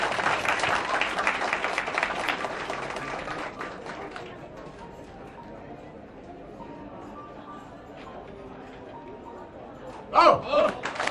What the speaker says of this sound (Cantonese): 俾啲掌聲啊！